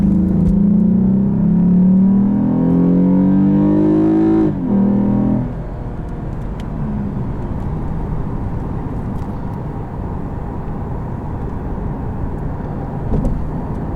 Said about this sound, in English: Let's hear this exhaust note.